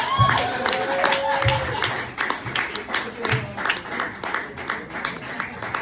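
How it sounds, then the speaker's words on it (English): An audience breaks into clapping and cheering at a comedy show, a close scatter of hands rising into steady applause that continues for several seconds. "a big round of applause to the happy couple"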